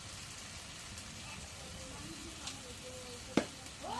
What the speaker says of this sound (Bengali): এখন কষানি হচ্ছে